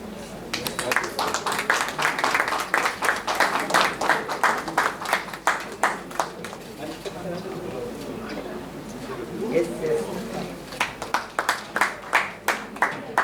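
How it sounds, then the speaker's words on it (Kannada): An audience applauds an award winner at a book prize ceremony during a national seminar inauguration, with bursts of fairly even, moderately loud clapping and a voice heard partway through. "ಜೋರಾದ ಚಪ್ಪಾಳೆಯೊಂದಿಗೆ ಅವರನ್ನು ನಾವು ಅಭಿನಂದಿಸೋಣ"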